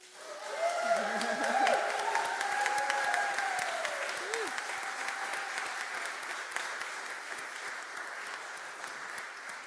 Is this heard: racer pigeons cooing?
no